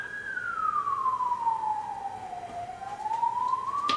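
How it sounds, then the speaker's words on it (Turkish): A siren wails in a long, slow falling and rising sweep, moderately distant, passing by over steady road noise. "Ambulans."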